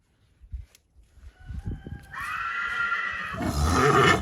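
A mare whinnies in a drawn-out, rising call that swells louder toward the end, with low thumps and rustling around it, during a visit from a stallion for breeding.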